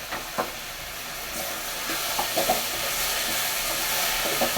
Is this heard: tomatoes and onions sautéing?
yes